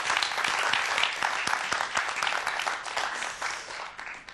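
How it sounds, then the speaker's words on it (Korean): Audience applause for the lecturer, a novelist speaking on mathematics and literature: dense, even clapping from a crowd filling the whole few seconds at steady loudness. "오늘 좋은 강연 해주신 우리 선생님께 다시 한번 큰 박수 보내주시기 바라고요."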